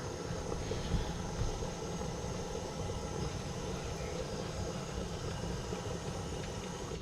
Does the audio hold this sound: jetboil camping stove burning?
yes